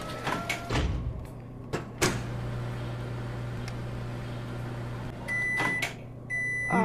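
Inside the Job Simulator video game, a microwave oven runs with a steady low hum after its door thunks shut, followed by a few clunks and repeated electronic beeps near the end.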